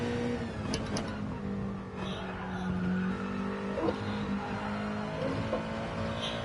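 Race car engine held in fourth gear in a sim racing game, a steady loud drone with slight rises and dips in pitch, running alone throughout.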